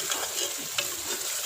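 Desi chicken pieces for shorba being fried in a pan, a brief close hissing sizzle with a light scrape of a spoon, no talk.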